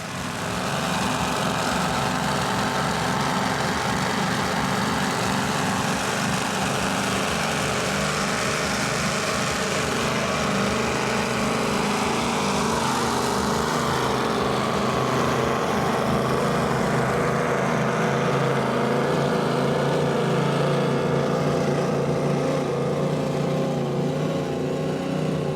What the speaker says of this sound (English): Nortec 36 Supercat, Twin Potter 1150s, a loud boat